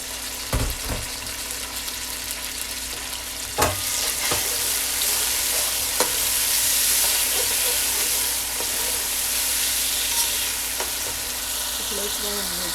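Chopped onion and tomato sizzling steadily in a hot pan while a spinach sauté is made, with a continuous close crackle and a few sharp knocks of a utensil against the pan.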